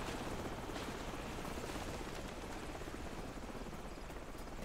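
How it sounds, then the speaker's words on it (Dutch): Steady rotor drone of a helicopter in Call of Duty 4 fills the scene, continuous and fairly even, with faint distant gunfire mixed underneath. "Helikopter."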